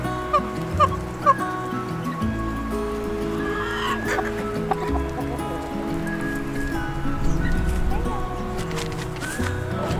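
Backyard chickens cluck intermittently while scratching through mulch and a compost pile on a small goat farm, their short calls scattered over rustling and soft ground noise, with people talking nearby.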